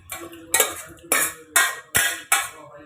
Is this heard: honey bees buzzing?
no